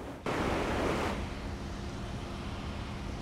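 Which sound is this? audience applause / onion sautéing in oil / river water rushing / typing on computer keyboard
river water rushing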